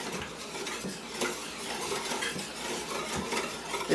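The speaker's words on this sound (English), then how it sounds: "So I'm just whisking this together." Oxtail gravy being whisked in a pan, with a steady run of metal utensil scraping and clinking against the cookware, close and fairly quiet, no voices.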